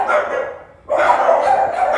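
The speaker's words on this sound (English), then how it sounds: "Shut up, dogs!" Several household dogs bark at a visitor arriving, a loud continuous burst with a brief lull before the barking resumes close by.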